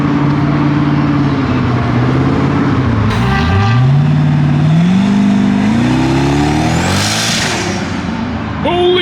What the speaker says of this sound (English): And another very clean C6 ZR1 pulling up